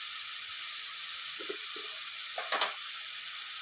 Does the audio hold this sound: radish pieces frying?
yes